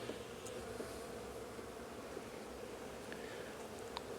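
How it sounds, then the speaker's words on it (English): Wasps and robbing bees hum around a hive at a farm apiary on a late-summer day, a faint, dense and continuous buzz with no voices. "There's going to be a few wasps around and bees"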